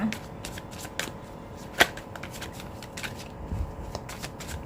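Tarot cards being shuffled during a card reading, a run of soft, quick riffling and sliding strokes with one sharper snap near the middle, close and quiet over a faint background hum.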